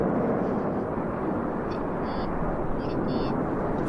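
An aerobatic display jet soloist passes at the Royal International Air Tattoo 2022 airshow, a loud, sustained broadband roar that fills the whole moment, with a commentator's voice faintly underneath.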